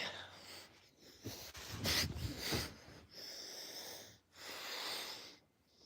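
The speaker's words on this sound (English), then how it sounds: "I'm breathing so heavy right now." Heavy, ragged breathing from a man just after a workout, close to the mic, in uneven wheezy gasps with brief pauses between breaths.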